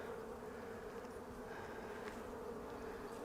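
Honey bees buzz steadily around brood box frames during early spring beekeeping, a faint, continuous droning hum with no talk, close but quiet throughout.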